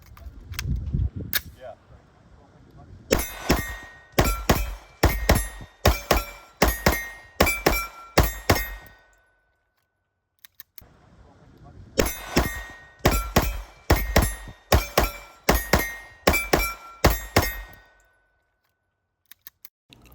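A Girsan 2311 Match pistol, V12 ported, fired outdoors in two strings of sharp paired shots with short pauses between pairs and a brief gap between strings.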